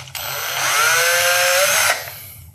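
A power drill bores through a tennis racquet's butt cap, producing a loud, close whine that climbs in pitch and holds for about a second and a half before cutting off.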